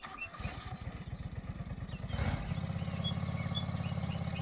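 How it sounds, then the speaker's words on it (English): An old John Deere lawn mower engine cranks with rapid rhythmic chugging, then catches and settles into a steady, close, rumbling idle. "That sounds like an old John Deere lawnmower."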